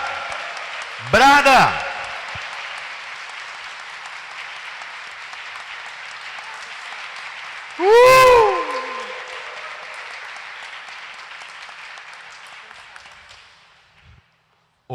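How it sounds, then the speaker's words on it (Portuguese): A church congregation applauds at a New Year's Day Mass for the Solemnity of Mary, Mother of God, a long steady wash of clapping filling the nave beneath a priest's amplified voice, with louder shouted bursts near the start and again midway. "dê uma salva de palmas para ele"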